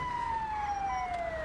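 An ambulance siren in the video game GTA 5 sounds as one steady wailing tone that slowly falls in pitch, at a moderate level over faint engine and traffic rumble, with no talk.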